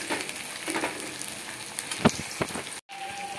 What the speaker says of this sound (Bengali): পেঁয়াজটা মোটামুটি ভাজা হয়ে গেছে, একটু ব্রাউননেস চলে এসছে